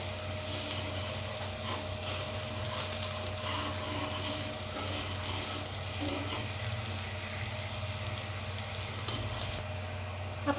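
Dosa batter sizzling steadily on a hot pan, a continuous close crackling hiss with a low steady hum underneath and no clear breaks.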